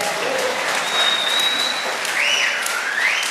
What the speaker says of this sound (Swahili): Kama umekamata, pigie Bwana makofi ya maana.